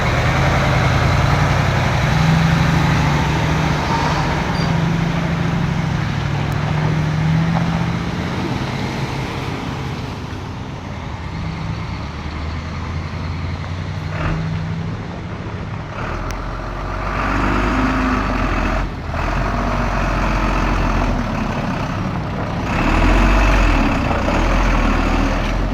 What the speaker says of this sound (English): trucks are just passing by here, numerous trucks